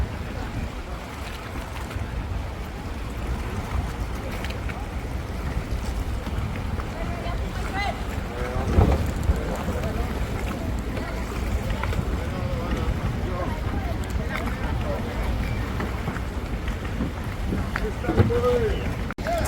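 A private boat cruises at sea near Phi Phi Island in Thailand, its engine rumbling low and continuous under gusting wind noise, with people talking throughout.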